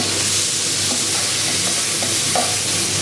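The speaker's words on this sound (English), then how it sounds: "So it's time to put the crushed garlic in now." Crushed garlic hits a very hot pan in an Asian-Italian style prawn spaghetti, producing a loud, dense sizzle with light stirring scrapes and no talk.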